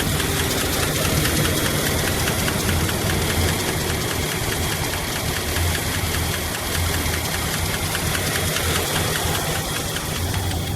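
A 1968 Plymouth Fury III convertible's 318 V8 engine idles steadily, a loud continuous rumble with a rough, knocking texture and no change in speed throughout.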